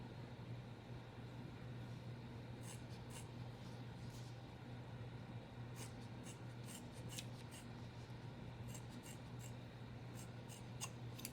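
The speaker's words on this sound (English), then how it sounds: "So now I have hair cutting scissors." Hair-cutting scissors snip through a ponytail in a run of quick, crisp close-up clicks, some clustered and some spaced, over a low steady background hum.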